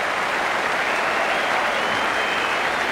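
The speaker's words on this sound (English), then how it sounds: "A standing ovation from a big crowd" A big crowd at the MCG gives a sustained standing ovation at the end of a cricket innings, with dense, steady applause and cheering filling the whole stretch.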